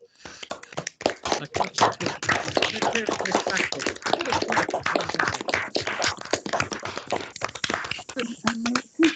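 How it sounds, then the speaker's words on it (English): Scattered, uneven clapping from an online audience unmuting to applaud award winners, with many sharp hand claps overlapping at varying levels and a few voices mixed in. "Do people want to unmute and clap for all the winners?"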